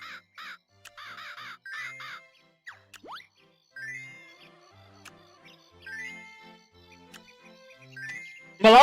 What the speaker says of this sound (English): We're gonna feed the bird.